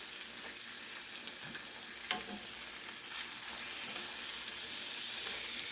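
Lamb chops sizzle and fry steadily in a hot skillet, a continuous crackling hiss with occasional sharper pops, fairly loud and close with no talking.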